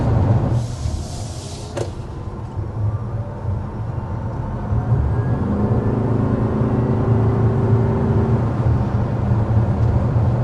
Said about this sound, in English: if you keep pressing into it, it'll go ahead and get that engine on